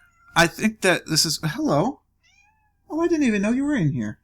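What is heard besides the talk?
cat meowing, black and white American Shorthair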